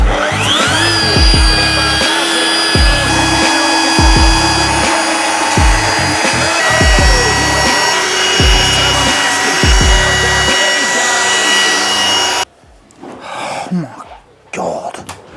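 An old MK1 Golf's paintwork is sanded with a power sander, a continuous loud whirring drone with rhythmic scraping strokes that suddenly cuts off, followed by quieter handling noises.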